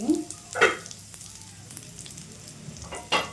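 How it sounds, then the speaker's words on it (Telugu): Bitter gourd pieces fry in a pan with a continuous close sizzle, broken by a few sharp clatters as they are turned. "రెండు వైపులు తిప్పుకుంటూ వేయించుకోవాలి"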